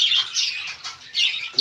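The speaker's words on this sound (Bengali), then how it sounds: "এটা হচ্ছে এই দাদার পাখি।" A pet bird kept at a village home makes repeated bright, high chirping calls in several short bursts, fairly close and clear, with no talking.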